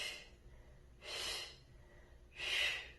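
Two forceful exhales during a floor Pilates exercise on the forearms, each a short breathy rush about a second apart, close to the microphone with quiet between them.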